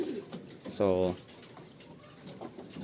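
A pigeon in a loft gives one clear, close coo, a short run of low pulsing notes, amid faint rustling and a brief spoken word.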